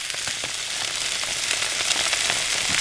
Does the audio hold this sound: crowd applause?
no